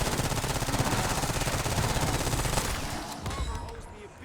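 Sustained fully automatic gunfire in a shooter game, a fast even stream of shots that keeps going until the ammo runs dry and the firing cuts off near the end, fairly faint overall with a bit of talk.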